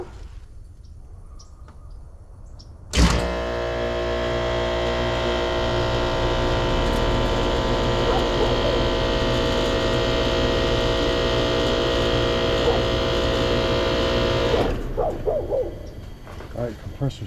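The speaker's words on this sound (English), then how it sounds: "Compressor sounds really loud." A Trane heat pump's compressor kicks on abruptly and runs loudly for about twelve seconds, a steady buzzing mechanical drone full of electrical hum, then cuts off, leaving quieter residual noise.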